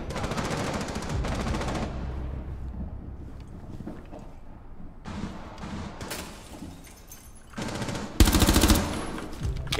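Rainbow Six Siege gunfire: loud bursts of automatic weapon fire in rapid strings, broken by short lulls, with a final sharp, heavy volley near the end.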